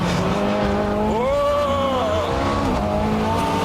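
A Ferrari F430 Scuderia engine roars at high revs while tires squeal in a brief, rising-and-falling screech during power oversteer at the Fiorano track, close and loud.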